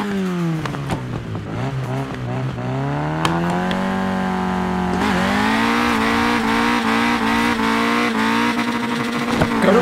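A Peugeot 205 Rallye engine in the racing game Forza Horizon 4 revs up and down through gear changes, loud and close, with a sustained high rev toward the end.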